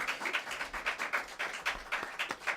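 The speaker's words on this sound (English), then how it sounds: "Let's give another round of applause." Audience applause after a poetry reading at the National Arts Club, with steady, separate claps pulsing in a regular rhythm from a modest crowd, close and moderately loud, without talking.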